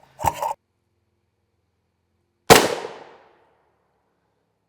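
A rifle shot from a 16-inch SIG MCX Spear strikes an RMA 1165 Level IV armor plate, heard as one sharp loud crack with a short decaying tail, following an earlier brief muffled burst and otherwise near silence.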